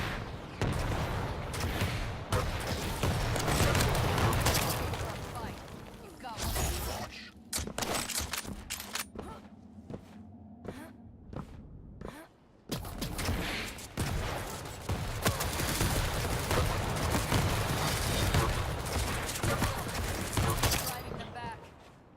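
Nail gun in Quake Champions firing rapid, dense bursts of sharp metallic shots, loud and close, with a quieter gap of sparse clicks and hums partway through before the barrage resumes.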